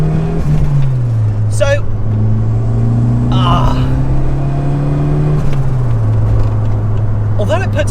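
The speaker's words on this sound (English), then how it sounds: "So we're just going to take it for a little pull. So we've got a nice straight bit of road here. So it spins up straight away." A 1990s Ford Fiesta RS Turbo MK3 accelerating hard along a straight road, a loud in-cabin engine drone rising and falling through the gears with turbo whooshes and whistles, while someone talks over it.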